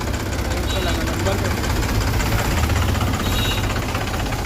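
A tractor engine idles nearby with a steady low rumbling chug, while people talk over it.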